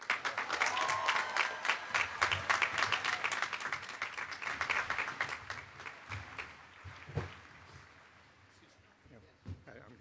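Audience at Harvard Law School Class Day applauding to welcome the dean to the stage, dense sustained clapping from a large crowd that gradually thins and fades out.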